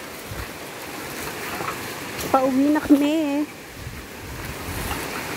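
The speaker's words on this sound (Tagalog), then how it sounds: "Makikita nyo na ang lagaslas ng tubig." Rushing stream water on the slopes of Mt. Mayon makes a steady, broad hiss throughout, with a person talking briefly in the middle.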